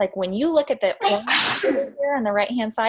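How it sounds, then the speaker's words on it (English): A sneeze bursts out from someone in the audience at a talk, a sharp, brief hiss under a presenter's steady speech that runs on before and after it. "bless you to whoever sneezed"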